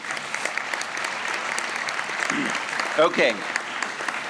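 An audience at a university presidential investiture ceremony applauds, a steady wash of clapping that carries throughout, with a brief spoken word near the end.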